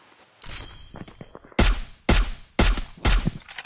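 Sniper rifle fire in a video game: four loud, sharp shots spaced about half a second apart, each with a booming low-end tail, following a stretch of softer clicks and handling noise.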